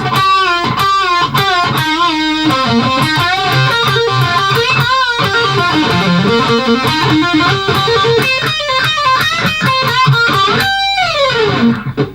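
A distorted electric guitar plays a fast, busy solo line with string bends and quick runs, loud and continuous for the whole stretch, ending in a downward slide.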